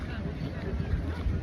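Wind buffeting a microphone outdoors on a cold day in Japan, a steady low rumble with gusty swells throughout, loud and close, with no clear speech over it.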